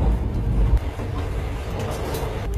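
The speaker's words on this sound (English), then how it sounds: "I'm on the Golden Chariot train." The Golden Chariot, an Indian Railways luxury train running between Bangalore and Goa, heard from inside a passenger cabin as a steady low rumble and rolling drone, with no talking.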